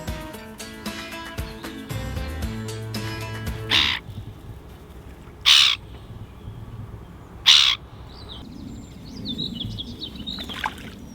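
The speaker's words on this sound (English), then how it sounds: "Even if I didn't see that majestic owl" An owl calls beside a river towpath where a narrowboat is moored, three loud, distinct hoots spaced a couple of seconds apart, following a brief stretch of tonal, musical sound at the start.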